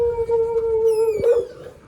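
A dog at a home with Rottweilers gives a sustained howl, steady and fairly close, then a short yelping break and a fading whimper, with no talk.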